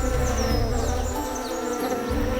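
Male orchid bees buzz in a humid Colombian coastal forest, a close, continuous drone of several wings with shifting pitches layered over dense insect and forest ambience.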